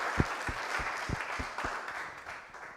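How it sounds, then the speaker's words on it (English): Applause from a conference audience for the developers at a show-and-tell session, a steady wash of clapping with a few close, sharp individual claps standing out near the front, tapering off toward the end. "So a round of applause for all of them."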